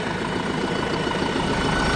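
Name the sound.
Deutz-Fahr Agrolux 80 tractor engine idling with turbo noise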